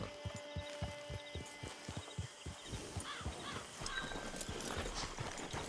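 Rhythmic clip-clop of horse hooves trotting close by, followed by a horse's whinny over a busy outdoor camp ambience in Red Dead Online.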